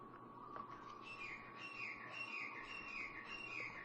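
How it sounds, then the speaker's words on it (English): A bird chirps faintly in a quiet, steady background, giving soft repeated high calls over about four seconds. "There's the bird."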